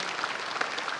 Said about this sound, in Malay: saya rasa kita kena beri tepukan gemuruh kepada kita lah sebagai rakyat